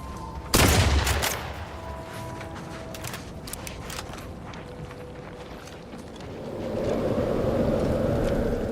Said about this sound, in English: Those look explosive. I'm gonna shoot them.